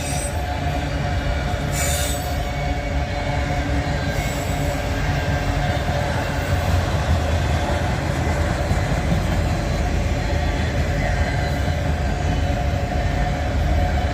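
A long freight train hauling auto racks rolls past at close range, with a continuous rumble, rhythmic wheel clatter and squealing wheels sustained throughout, no voices.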